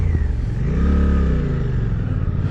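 A Suzuki GSX-8R motorcycle's long-stroke twin-cylinder engine revs up close, a deep throbbing pulse rising in pitch and then settling back, loud and heard alone.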